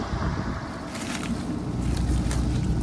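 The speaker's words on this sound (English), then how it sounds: "so it's windy" Wind gusting across an open Kansas field during a corn harvest, a steady loud roar and rumble buffeting the microphone throughout.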